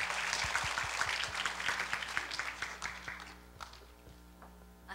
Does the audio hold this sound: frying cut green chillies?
no